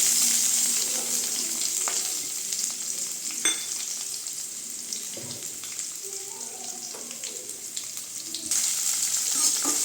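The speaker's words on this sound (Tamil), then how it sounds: "வெங்காயம் நல்லா வதங்கிட்டுங்க." Onions frying in a pan with curry leaves for a potato and cauliflower curry, a steady close sizzle with a few stirring scrapes and faint clinks, no talking.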